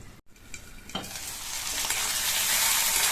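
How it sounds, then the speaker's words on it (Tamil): Brinjal pieces fry in oil in a pan on the stove, a soft scrape and click giving way to a steady sizzle that swells louder and brighter toward the end, with no voices. "இந்த கத்திரிக்காய் எண்ணெயிலேயே வதங்கி பாதி அளவுக்கு வெந்து வரட்டும்"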